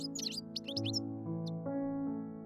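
A goldfinch sings quick, high, twittering chirps in short bursts over a soft, steady musical drone.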